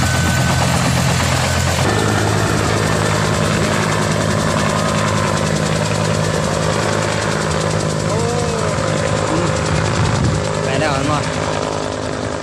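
A military helicopter with engine trouble, landed in a rice field, its engine and rotor roaring loudly and continuously nearby, with a steady droning hum throughout.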